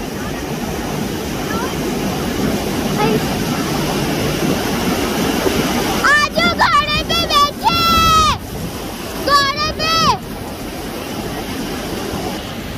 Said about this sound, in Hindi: ये देखिए लहरें तेज हो गई हैं।